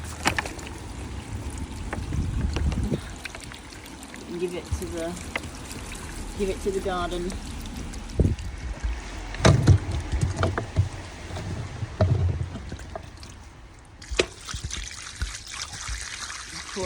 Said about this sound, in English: Pouring the water out of the containers.